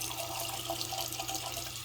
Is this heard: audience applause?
no